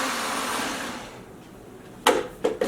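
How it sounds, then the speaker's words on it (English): A blender whirs loudly as it purées onion and habanero chunks into a paste, a steady broadband roar that winds down and stops, followed by a few sharp clunks of the lid or jar. "Close the blender and blend this to a paste."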